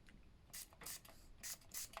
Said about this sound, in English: spray with fixer